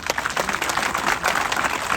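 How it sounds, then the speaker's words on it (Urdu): A crowd at a political rally in a remote area welcoming Ghulam Nabi Azad claps loudly and continuously, a dense, close burst of applause with no speech over it. "زوردار تالیوں سے جواب دیں۔"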